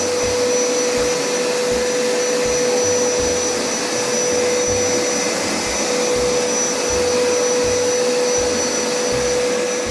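A Hoover Power Scrub Deluxe FH50150 carpet cleaner on its wash setting runs over a dirty carpet, a loud, steady motor drone with a constant whine and a faint rhythmic thump from the passes, no voices.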